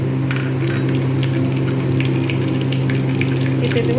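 Whole cumin, kasuri methi and dried chilli sizzle in hot oil for a Bengali shahi alur dom, a steady, dense frying hiss that holds evenly throughout with no talking.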